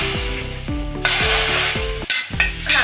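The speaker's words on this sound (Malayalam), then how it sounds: "നമുക്ക് കടുക് പൊട്ടിച്ച് ചേർക്കണം" Mustard seeds splutter and sizzle in hot oil while being stirred, tempering for a prawn and raw mango curry; loud continuous frying crackle with repeated scraping stir strokes, no voices.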